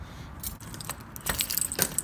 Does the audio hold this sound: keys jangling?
yes